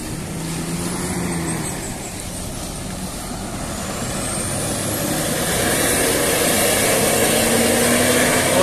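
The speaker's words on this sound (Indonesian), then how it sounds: "Sudah pakai knalpot swos ternyata." Intercity coach bus of Bintang Mutiara Transport Express Jaya fitted with an aftermarket SWOS exhaust, heard close on the road as a loud, rough rumbling roar that swells steadily louder, alone without talk.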